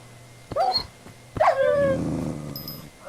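A dog in the Minecraft video game barks twice in quick succession, then growls steadily and loudly, with a low background tone and a faint high chime near the end.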